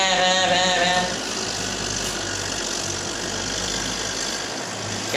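A tractor engine runs steadily outdoors with a loud, continuous rumbling drone that does not let up.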